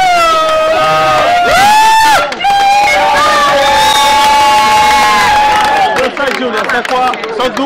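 Loud crowd cheering and whooping for a performer at a show, with strong sustained voices and a sung or shouted tone riding over the din, continuous throughout with a brief dip early on.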